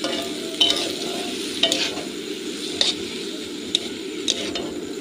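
Spiced hilsa fish curry with eggplant and greens being stirred in a pan: a steady sizzle with five distinct scraping strokes of the spoon against the metal, and no talking.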